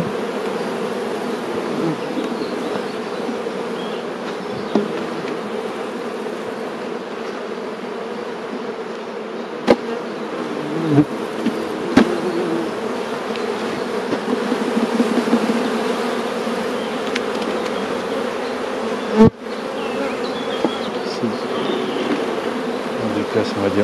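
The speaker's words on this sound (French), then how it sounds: "abeilles, on va les remettre dans la ruche" Honeybees buzz around a beehive in a close, loud, continuous hum that holds steady throughout, broken only by a few sharp clicks and knocks.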